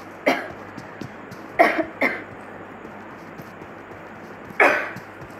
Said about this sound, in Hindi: कुछ कुछ खांसी हो रही है आज